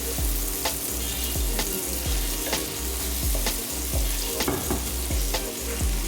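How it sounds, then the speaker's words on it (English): Spices sizzle in hot oil for a Bengali chicken curry, with repeated scraping stirs of a spoon against the pan, a close, steady crackle. "Fry until the spices start separating oil."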